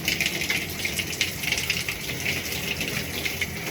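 A shower runs with a steady, close hiss of spraying water, continuous and fairly loud throughout, with no talk.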